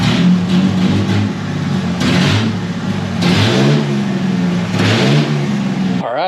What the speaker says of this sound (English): when you rev it up, it sounds like a 6-cylinder